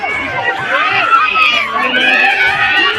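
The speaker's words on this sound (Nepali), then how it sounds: "हेर्नुहोस् है दर्शकहरूको हुटिङ है" Spectators at a kabaddi match hoot, shout and scream in a dense, continuous crowd roar with overlapping high-pitched cries, loud and sustained throughout.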